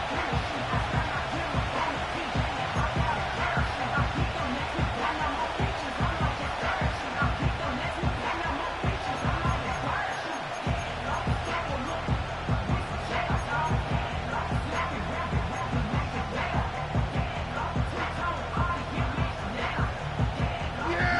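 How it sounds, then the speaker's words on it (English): A stadium crowd at a football game keeps up a loud, continuous roar, with a commentator talking over it. "this crowd is making an impact right now"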